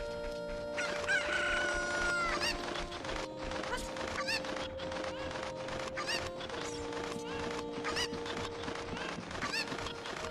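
Cuckoo chickens from The Legend of Zelda: Ocarina of Time crow and cluck repeatedly, a busy flock of overlapping squawks in a steady burst, with sustained game music tones droning underneath.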